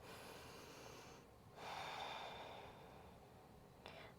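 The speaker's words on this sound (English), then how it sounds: "3 nice long breaths." During a yoga forward fold, a person takes slow, long breaths that come as faint, soft airy exhales in quiet surroundings, with one longer breath followed later by a shorter one.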